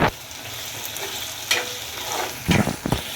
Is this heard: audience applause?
no